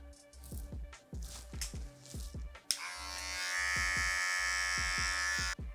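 Electric hair clippers buzz close up while cutting hair during a fade and taper after dreads are cut off, with clicking taps at first and then a steady, louder continuous whir lasting several seconds.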